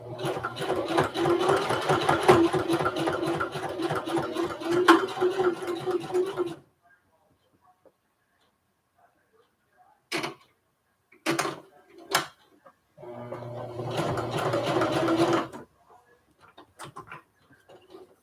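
Sewing machine stitching through thick lunch tote fabric: a rapid, close mechanical whir for several seconds, then silence, short bursts and another steady run.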